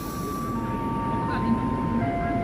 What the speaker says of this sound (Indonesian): KRL tidak lama berhenti di sini dan langsung diberangkatkan kembali menuju stasiun Jakarta Kota.